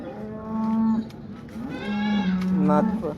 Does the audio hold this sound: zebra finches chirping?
no